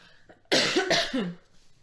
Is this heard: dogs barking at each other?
no